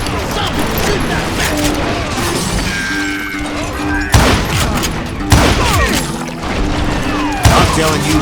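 Crossfire in the Western shooter game Call of Juarez: Gunslinger, loud, continuous volleys of overlapping gunshots with sharp cracks, crashes and ricochets, the barrage swelling in several heavy bursts.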